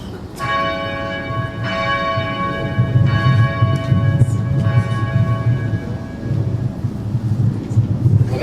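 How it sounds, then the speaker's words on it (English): Memorial church bell, the seventh of the Gordon Stuart Peek Memorial Bells, rung by Bill Gates Sr., strikes repeatedly at a steady pace, each ring a loud harmonic tone that lingers and overlaps the next over a low background rumble. "It's the seventh bell, will be rung by Regent Bill Gates Sr."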